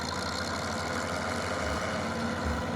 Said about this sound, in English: Gives a nice little gargle from the engine, which is particularly characteristic of a older machine.